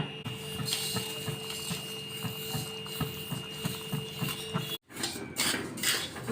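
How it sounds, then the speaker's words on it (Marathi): Sesame seeds roast in a pan for Diwali sesame karanji, with a spatula knocking and scraping against the pan in a quick, regular rhythm over a constant background hum, then a brief silent gap near the end. "तर आता हे तीळ आपण याचं भाजून घेऊया"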